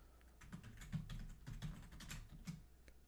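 Irregular clicking keystrokes on a computer keyboard, moderately close and fairly quiet, tapping steadily for a few seconds with no voices.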